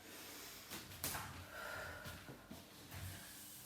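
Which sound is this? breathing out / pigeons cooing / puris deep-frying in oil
breathing out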